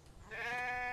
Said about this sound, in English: Oh, it's a sheep!